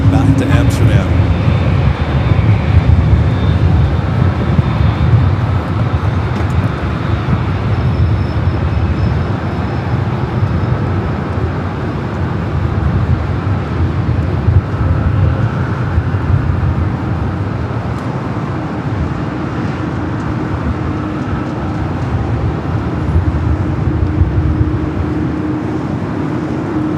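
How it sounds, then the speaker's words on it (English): KLM airliner taking off from runway 24 left at LAX, bound for Amsterdam: a steady broad jet roar held for the whole stretch, fairly distant and constant, with voices talking over it. "KLM flight 602, the flight heading back to Amsterdam"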